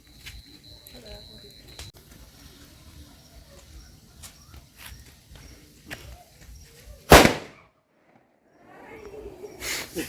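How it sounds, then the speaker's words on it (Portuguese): A single firecracker bursts with a sharp, loud bang on a Saint Anthony bonfire night, standing out against quiet background rustle and faint clicks, followed by a brief silence and then soft outdoor noise. "Só tem uma bomba agora."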